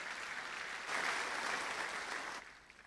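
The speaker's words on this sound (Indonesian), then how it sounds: "Berikan tepuk tangan buat Tuhan" A church congregation claps for God during a worship service, a dense steady wash of applause that swells partway through, then fades out near the end.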